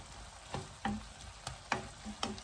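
Egg, sausage and flowering cabbage are stir-fried in a pan, with a quiet background sizzle broken by about five distinct scraping stir strokes at irregular intervals.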